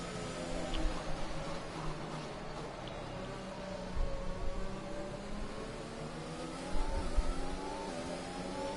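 An F1 car pulls out of the pit lane at the Hungary circuit in F1 2021, its engine whirring and revving at mid distance over a steady background hum, with the pitch rising and falling a few times.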